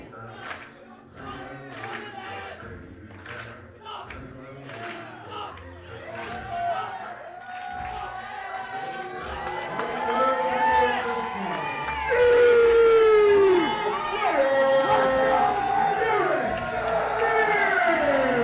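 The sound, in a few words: wrestling crowd cheering wildly for a wrestler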